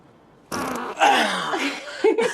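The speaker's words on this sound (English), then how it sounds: "a girl accidentally breaks wind, prompting the dude to diffuse the tension by repeating the act" A fart in a parody movie scene, a short burst that quickly gives way to louder noisy sound, with a further sharp blip near the end.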